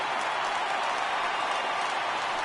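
A baseball stadium crowd of over 31,000 cheering at a Red Sox versus Astros game, a dense continuous roar with clapping, loud and steady throughout.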